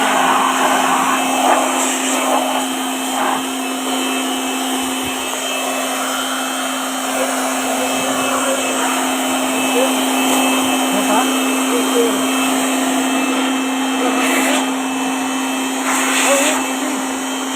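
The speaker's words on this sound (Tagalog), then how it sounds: "May vacuum din yan. Dalawang purpose niyan, may vacuum yan. Ito ang vacuum niyan." A vacuum cleaner runs steadily and loudly throughout, a constant motor hum and whine with a strong tonal line, while people talk intermittently over it.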